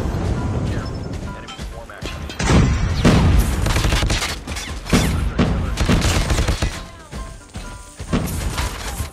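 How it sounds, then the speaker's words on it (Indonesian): Rapid bursts of gunfire from a Type 19 assault rifle and other weapons crack and thud loudly in a mobile shooter game, with repeated volleys and impacts between short pauses. "Siapa yang nembak gua, guys?"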